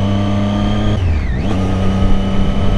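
A 2013 Triumph Daytona 675 sport bike engine whines steadily while being ridden, a loud sustained drone with a shifting pitch dip partway through, heard alone without talk.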